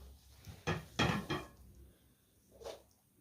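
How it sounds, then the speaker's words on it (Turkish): Dishes and cutlery being cleared away in a home kitchen after a meal: a few close clattering clinks and knocks of plates and utensils, with quiet pauses between. "Bulaşıkları kaldıracağım."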